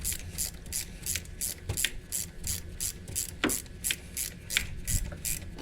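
Ratchet wrench tightening bolts on the high pressure fuel pump of an Audi B8 S4: rapid, evenly spaced metallic clicks in a steady rhythm throughout, close and clear with no talking.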